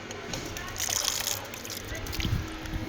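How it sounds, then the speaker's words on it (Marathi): Water runs from a push-button tap on a street in Tarragona, Spain, with a soft, steady splashing flow. It is faint and close, set against light outdoor background noise. "हे पुश केलं पाणी येतं."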